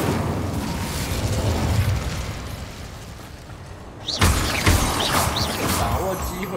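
A fire spell blast in the Hogwarts Legacy video game: a roaring whoosh of flame over game ambience, then a sharp burst that flares into crackling fire near the end.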